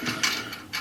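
A butterfly air ratchet turns a nut during an apartment toilet tank repair, giving short bursts of rapid mechanical clicking and whirring, close and fairly loud, with brief pauses between pulls.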